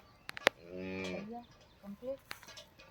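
A cow on a farm gives one drawn-out low moo, faint and a little distant, framed by a few sharp clicks and short, quiet vocal sounds.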